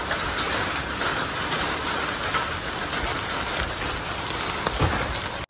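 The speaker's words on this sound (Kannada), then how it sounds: "ಮಳೆ ಜೋರು ಬರ್ತೈತಿ" Heavy rain falls steadily in a dense, loud, continuous hiss for the whole stretch, with no voices over it.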